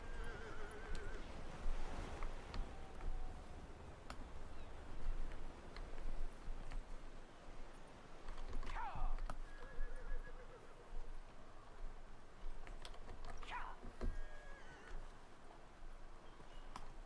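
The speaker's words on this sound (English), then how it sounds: "One problem with the horse riding in this game is that it deletes party banter." In the video game Dragon Age Inquisition, a ridden horse clip-clops steadily at a trot, with several clear neighs and whinnies rising above the hoofbeats over a quiet game soundscape.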